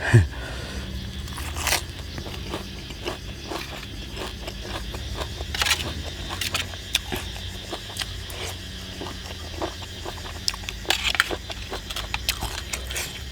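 Crisp crunching bites and chewing of crunchy lettuce eaten with apple snails, repeated close bites and crackles in an irregular rhythm, fairly quiet and without talk.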